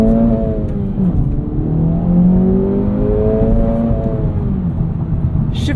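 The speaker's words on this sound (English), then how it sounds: "This has somewhat of a launch control." A 2024 Acura Integra Type S launches from about 3,000 rpm on an empty road, its engine note climbing steadily in a loud, close drone, dipping briefly at a shift before pulling again.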